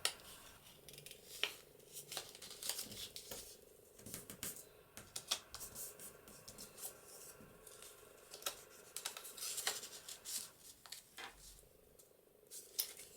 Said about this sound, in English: I'm going to cut this to about the same width as the papers.